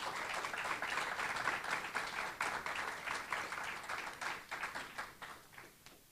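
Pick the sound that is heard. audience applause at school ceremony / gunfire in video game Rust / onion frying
audience applause at school ceremony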